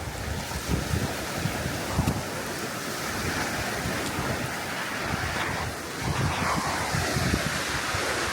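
Waves rolling and washing onto a rocky shore at Flamborough Head on the Yorkshire coast, with gusty wind rumbling across the microphone, steady and fairly loud, no talking.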